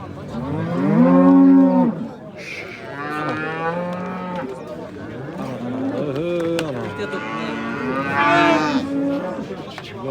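Cows moo loudly and repeatedly at an open-air livestock market, several long drawn-out calls close by, with faint background voices between them.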